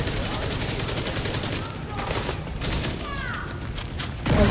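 Rapid weapon fire in The Division 2 crackles in steady repeated bursts, fairly loud and continuous, with a person talking over parts of it.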